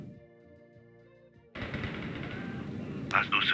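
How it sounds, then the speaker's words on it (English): Bursts of machine gun suppressive fire in the Cartel Tycoon video game erupt after a quiet musical lead-in, a dense, loud rattle of gunshots continuing to the end with a sharper crack near the close. "We need to lay down some suppressive fire"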